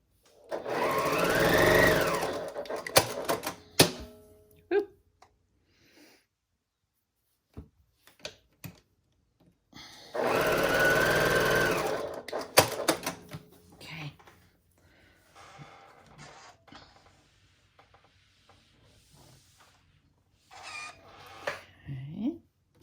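A sewing machine stitching a quarter-inch seam runs in two loud, steady bursts of a few seconds each, separated by quieter stretches of small clicks and handling noise, with a voice talking briefly near the end.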